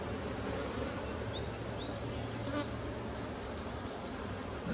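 A dense, continuous buzz of many honey bees, steady and close, a constant hum with faint higher whines drifting through.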